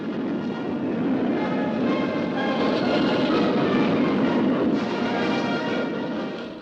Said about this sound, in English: overhead flew 10 long-range Tu-95s, capable of delivering a nuclear bomb all the way to America.